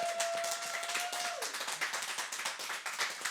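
Brief burst of studio audience applause for a podcast guest, quick clustered clapping at moderate loudness, with a held tone fading out at the start.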